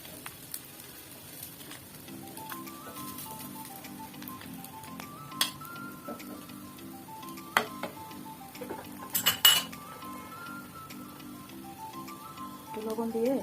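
Fried dried chillies are lifted from a pan with a utensil during a bean-and-new-potato mash recipe, giving a few sharp metallic clinks and scrapes over a faint background sizzle.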